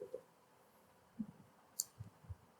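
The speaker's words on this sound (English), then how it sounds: "So I'm going to right click and click on edit." Computer mouse clicking, a few faint, sparse clicks spread across a quiet room, with no talking.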